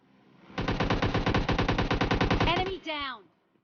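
Rapid automatic gunfire in PUBG Mobile Lite, a loud, steady burst of many evenly spaced shots lasting about two seconds, followed by a brief ringing, whooshing tail.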